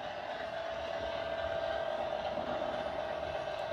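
A model train runs along a layout track, giving a steady, fairly quiet rolling rumble with a constant hum throughout and no speech.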